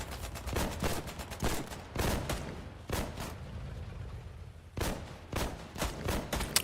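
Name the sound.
gunfire in the video game Company of Heroes 3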